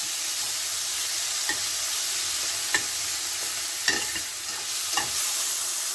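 Corned beef sizzling in butter in a pan over medium heat, producing a steady bright hiss with a few soft stirring scrapes and pops throughout, close and with no voices.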